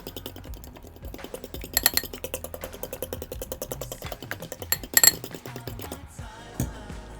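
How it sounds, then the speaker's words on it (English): A fork beats eggs in a bowl, giving quick, rhythmic clinking taps against the sides in irregular bursts, close up and with no talking. "Then we're gonna get a fork and just stir it up. Stir the eggs, mix them together."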